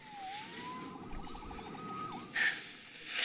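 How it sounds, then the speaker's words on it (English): Siren wail in the Marvel's Spider-Man Remastered video game, a rising and falling tone sweeping steadily for about three seconds over a low rumble of background game ambience, with a brief brighter burst near the end. "Saved by the siren."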